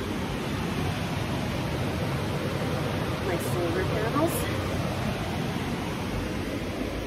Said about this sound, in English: I hope the sound is okay on this because that river is very loud. It's called the Ashnola River.